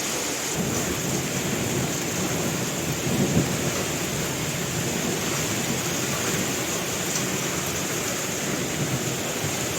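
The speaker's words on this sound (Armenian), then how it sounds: "Այնպիսի քամի ա ու այնպիսի անձրև ա" Heavy rain mixed with hail pounds down steadily through a windy thunderstorm over open farmland with apricot trees, a dense, loud, unbroken roar with low rumbling underneath and no voices.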